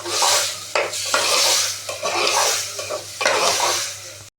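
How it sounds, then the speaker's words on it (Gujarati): A spoon stirs a bitter fenugreek curry in a pan after turmeric and crushed garlic-chilli paste go in, making rhythmic wet scraping strokes and sizzling bursts up close, each pass followed by a brief pause. "હવે બરોબર મિક્સ કરી લેશે બા."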